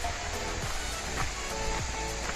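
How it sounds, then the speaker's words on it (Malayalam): A small waterfall at Vadakkankara in Pothundi, Malappuram, roars as a dense, continuous wash of falling water, loud and close, with no talk. "ആ പോത്തുണ്ടിലുള്ള വടക്കാങ്കരയുള്ള ഒരു ചെറിയൊരു വെള്ളച്ചാട്ടം, ചെറുതൊന്നല്ല."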